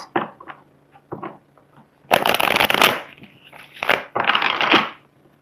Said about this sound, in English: Let's go ahead and pull another card.